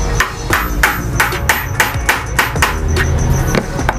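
Light, rapid hammer taps seat the collar of a fitting on a Japanese instant water geyser, a steady series of about a dozen sharp metallic knocks, close and clear.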